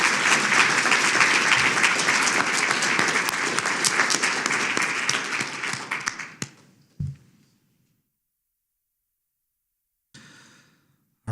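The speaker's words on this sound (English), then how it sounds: "Please join me in applauding all of their work." Audience applause at a college state-of-the-college address, dense loud clapping from a large crowd for about six seconds that tapers off into silence, followed by a few faint sounds.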